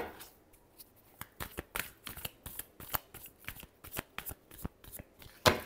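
Tarot cards are shuffled by hand in a quiet room, a close series of crisp riffling slaps and flicks in an uneven rhythm, ending with a louder final snap.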